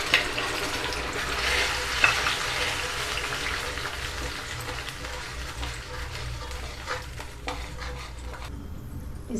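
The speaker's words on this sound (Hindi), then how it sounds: "अब इसमें हम जो पेस्ट बनाए थे वो इसमें हम डाल के भूनेंगे" A spice paste fries in a pan for raw papaya curry made without garlic or onion, a steady close sizzle and bubbling with occasional stirring knocks, easing off toward the end.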